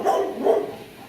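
A dog in a kennel gives two quick, moderately loud barks close by, the second slightly softer, with no voices.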